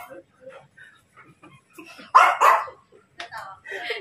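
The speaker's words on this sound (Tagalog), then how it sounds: "Nagagalit yung aso." An angry dog barks in a few loud, close bursts, with scattered quieter sounds between and people talking nearby.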